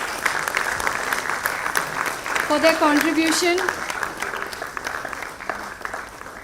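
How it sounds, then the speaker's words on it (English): Audience applauding award winners at the Women Leaders in Automation & Data Science Awards 2024, a steady round of clapping filling the hall while a host speaks over it through a microphone. "let's applaud for these wonderful ladies"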